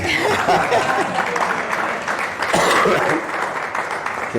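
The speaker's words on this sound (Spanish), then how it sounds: "Un aplauso para ti" An audience applauds steadily in a dense, sustained burst of clapping with faint murmurs and a little laughter mixed in.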